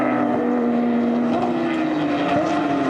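A Porsche Cup race car's engine drones at a steady pitch as the throttle is fed in smoothly, holding an even, continuous note with no commentary over it.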